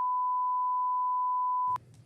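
A single steady electronic beep holds for nearly two seconds, then cuts off abruptly into faint background noise.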